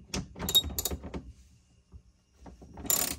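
Hand tool loosening a run of 10 mm bolts on a Tesla while removing the plastic tub, giving clustered metallic clicks and ratcheting clatter in short bursts, then a pause and a final louder burst.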